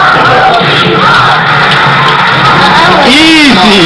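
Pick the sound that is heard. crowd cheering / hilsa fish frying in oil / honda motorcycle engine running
crowd cheering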